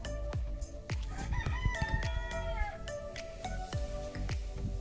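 Cream Legbar chickens in a winter grow-out pen, with a rooster crowing in a long drawn-out call amid repeated sharp knocks and clucks, close and loud with no talking.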